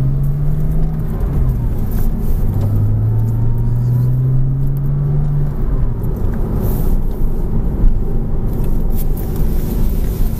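A car engine drones steadily from inside the cabin while the driver shifts into second gear, with the hum dropping in pitch as the gear changes and a constant low road rumble beneath.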